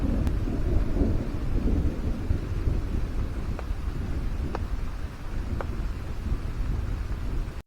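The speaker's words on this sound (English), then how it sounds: "listen to the rain and the thunder" Steady heavy rain pours through a thunderstorm at a campsite in mid-afternoon darkness, with thunder rumbling low and continuous underneath and a few faint sharp crackles, close and loud throughout, no voices.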